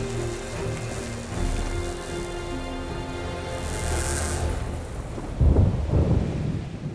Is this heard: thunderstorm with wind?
yes